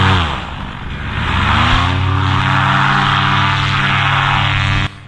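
Paramotor engine during a powered paraglider launch, a loud steady propeller drone that rises in pitch as the throttle opens, then holds at full power before cutting back sharply near the end.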